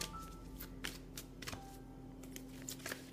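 Oracle cards being shuffled by hand, soft papery riffles and flicks in quick irregular bursts, close and quiet over a low steady hum.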